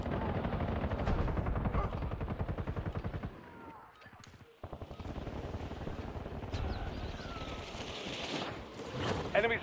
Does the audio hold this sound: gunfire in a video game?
yes